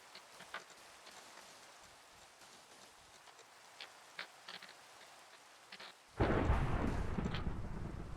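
Minecraft lightning strike thunder: after several seconds of soft rain patter, a sudden loud rumbling crack bursts in and rolls on heavily to the end.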